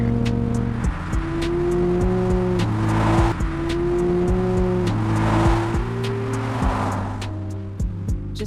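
A car drives steadily with a loud, continuous engine drone that rises and falls in pitch through gear-like shifts, heard alone with no talking.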